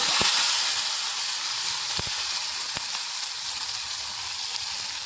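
Thick tomato chutney with dried red chillies and coriander hitting a hot pan, Saravana Bhavan hotel style: loud steady sizzling hiss with a few sharp knocks early on, no voices.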